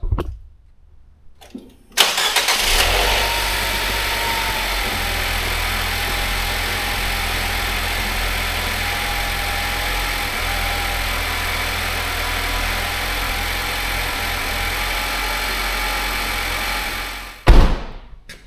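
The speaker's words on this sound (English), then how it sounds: "Let's fire it up real quick, see what she does." A Nissan Juke's engine cranks and catches after a brief quiet lead-in, then settles into a steady, loud idle with a constant low rumble, and the sound cuts off near the end.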